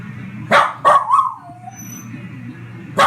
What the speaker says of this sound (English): The dogs are talking shit about Andrew.